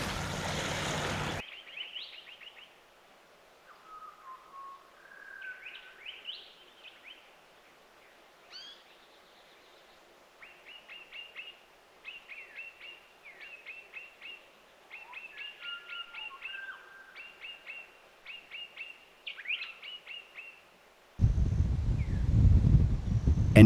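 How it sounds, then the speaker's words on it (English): Kelp gulls call along a rugged southern Tasmanian coastline, a sparse series of short sharp cries and chattering notes in a quiet stretch, framed by bursts of loud broadband rushing noise at the start and end. "Thriving along rugged southern coastlines, kelp gulls are incredibly bold opportunists."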